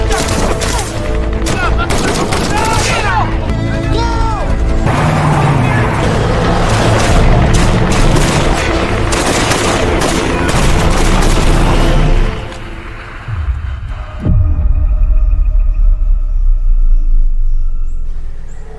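A war film shootout fills the track with dense, loud bursts of gunfire and booming explosions over a rumbling score. A brief lull comes near the end before heavy rumbling resumes, and a narrator talks over it.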